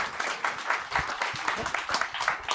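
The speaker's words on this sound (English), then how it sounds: "the people will applaud you right now" A crowd at a women's agrifood summit applauds as someone is called to the stage, a dense, fairly close wash of clapping that swells and dips across the short stretch.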